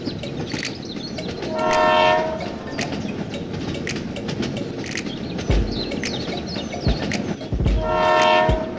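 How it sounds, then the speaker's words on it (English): A train horn sounds twice, loud and close, over rumbling wheels and rhythmic clicking as the train moves off. "The train continues to the next station."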